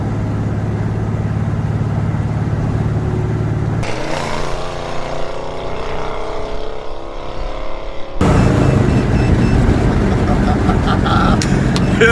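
A car fitted with a Lyell's exhaust rumbles loudly, then the tone drops as the driver kicks down into second gear and accelerates past, the exhaust roaring up again.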